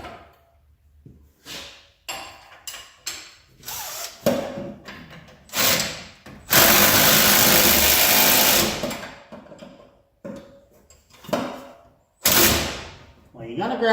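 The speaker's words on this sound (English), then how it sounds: "small Ooga Dooga machine and we'll tighten up all these little bolts" An impact wrench in a garage tightens small bolts on a 1980 Plymouth Volare build. It gives a loud, sustained buzzing burst lasting a few seconds, set among shorter clanks and tool handling, with voices talking nearby.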